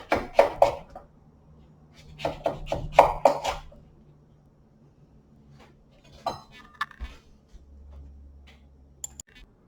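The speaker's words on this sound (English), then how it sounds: "So I have my pumpkin cubed up into about 1-inch cubes." A knife chopping a sugar pumpkin into 1-inch cubes on a cutting board, with bursts of close, sharp clicking cuts in quick clusters separated by pauses, alone without talk.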